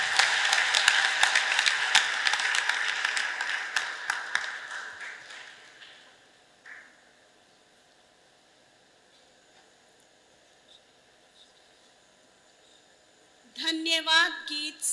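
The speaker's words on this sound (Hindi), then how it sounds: "ताली बजाना मांगता है।" A congregation at a church thanksgiving celebration claps. The rapid applause starts loud and fades away over several seconds into near silence, and then a voice begins to speak.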